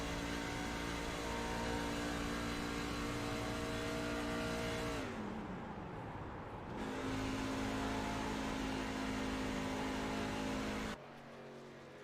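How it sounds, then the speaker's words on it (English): Engine of a race truck in a racing video game, heard on board as a steady loud drone that drops away when the engine is cut to save fuel, then returns at full pitch and is cut again near the end. "how hard he is killing the engine to try and save a little bit of fuel"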